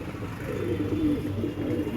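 Domestic pigeons in a loft coo softly and continuously, a low murmuring warble close by over a faint background hum, with no voices.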